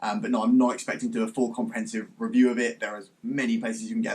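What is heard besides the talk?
No distinct noise like a dog, phone or traffic.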